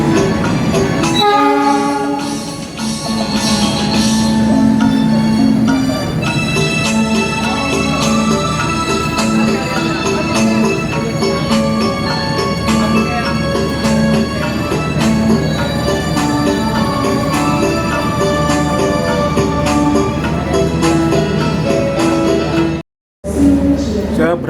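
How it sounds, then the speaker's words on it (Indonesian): Locomotive CC261502 rumbles at the Cipinang depot with a long, loud, continuous drone and sustained horn-like tones, while voices are mixed faintly into the scene before a brief drop near the end. "Lokomotif CC261502 di Poinduk Cipinang."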